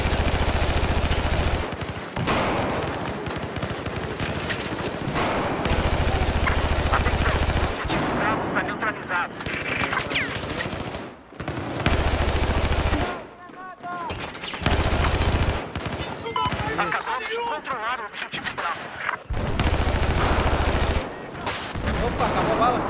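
Heavy video game gunfire in a squad shooter, with dense repeated bursts and rapid automatic volleys filling nearly the whole stretch, broken by brief lulls, loud and close.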